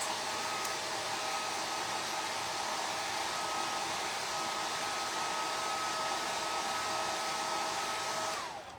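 A hair dryer blows hot air to dry paint on a silk screen, a loud, steady roaring whine held close throughout that cuts off sharply at the end, with no speech.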